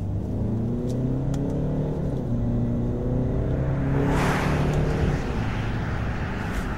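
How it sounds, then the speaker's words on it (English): Range Rover Evoque four-cylinder engine pulling hard in second gear under throttle, a steady close drone that rises and grows brighter toward the end, with no talk over it. "I'll just come down to second gear, give it some throttle"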